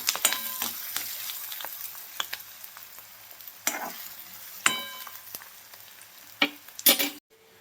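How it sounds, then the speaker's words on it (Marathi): Sliced onion frying in hot oil in a kadhai, a steady bright sizzle broken by sharp spatula scrapes and stirring clatters against the metal, close up with no talk. "कांदा भाजून घेऊया चांगला"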